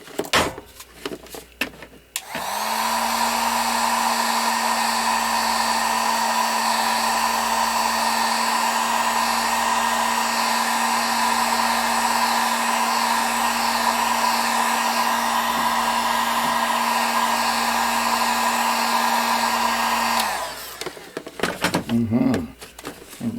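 Heat gun blowing a steady loud whooshing roar while heating a Kydex sheet for a knife sheath, running continuously for about eighteen seconds after a few handling clatters, then switching off with more handling noise.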